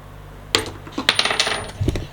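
Several sharp metallic clinks of Thai Buddhist amulet coins handled together, a quick irregular run of close, bright taps with no voices.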